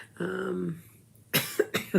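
A woman gives one throat-clearing cough and then a couple of short, sharp coughs, close to the mic and unmasked.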